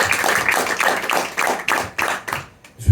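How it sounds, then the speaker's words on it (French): Comedy club audience clapping after a stand-up bit, a burst of hand claps in uneven waves that thins out and fades toward the end. "On peut l'applaudir, bravo!"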